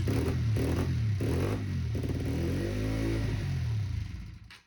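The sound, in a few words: Honda CBR 125cc motorcycle engine starting and stalling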